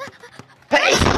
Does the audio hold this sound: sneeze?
yes